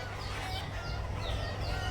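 Egyptian laying hens on a poultry farm cluck faintly and intermittently over a constant low hum, with occasional distant crowing and no speech.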